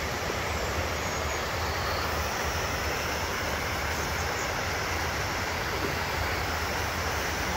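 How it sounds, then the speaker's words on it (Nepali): A flowing mountain stream, the Naguwa Khola, rushing in a dense, continuous roar of water at steady loudness for the whole stretch, with no voices. "कागुवा खोला"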